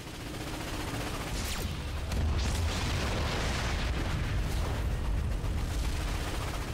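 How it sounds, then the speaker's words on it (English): Cannon fire in the Ratchet & Clank video game: a dense, continuous barrage of rumbling booms and bursts that swells louder partway through, with no voices over it. "Cannons ready! Fire!"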